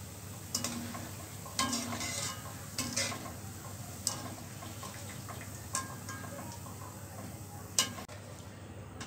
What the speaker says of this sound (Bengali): এরপর আমি চিড়েগুলো ভেজে নিব।